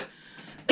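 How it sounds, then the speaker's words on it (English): A woman gives a single sharp cough right at the end, loud and close, after a brief quiet stretch. "I have got the most horrendous cough"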